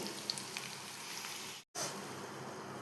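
Drumsticks and onions fry in oil in a pan with a continuous, even sizzle that cuts out for a brief moment near the end and then resumes.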